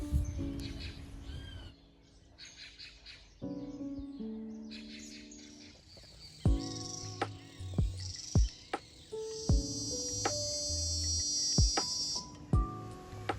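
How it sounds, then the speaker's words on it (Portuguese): Cicadas, bees and other insects drone and buzz in an outdoor garden while birds chirp and tweet in short bursts, with a steady high-pitched cicada whine partway through. "observando os sons do jardim, do vento, dos pássaros, das cigarras, abelhas"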